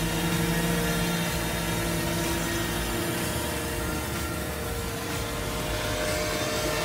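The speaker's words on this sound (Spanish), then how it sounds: "No, lo hicimos con este dron." Camera drone hovering overhead at an outdoor event in Phoenix, Arizona, giving a steady, loud whirring buzz with a slight rising tone early on, continuous for the whole stretch without talk.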